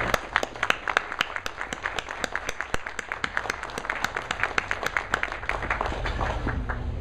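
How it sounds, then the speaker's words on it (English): An audience at a country fair talk on antibiotics and food claps for panelists, with distinct individual claps blending into steady applause, moderately loud and continuous throughout. "let's give our panelists a big round of applause"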